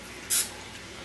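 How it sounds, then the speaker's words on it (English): Two short hissing bursts of Pam cooking oil spray onto a hot pizzelle iron, the first about a tenth of a second long, the second starting near the end, over quiet background. "So you want to spray your Pam spray, and you don't want any seasonings on it."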